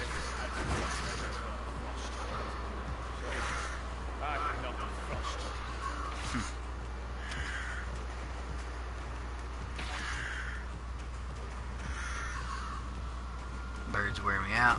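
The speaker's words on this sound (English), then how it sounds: "Birds wear me out." Crows caw repeatedly in the video game Vikings Wolves of Midgard, harsh calls recurring every few seconds over a low steady hum while a voice talks throughout.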